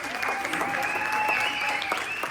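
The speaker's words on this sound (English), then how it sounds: "A round of applause for the community." Audience at an Islamic center community event applauding, dense steady clapping with faint overlapping voices and a whistle-like tone running beneath.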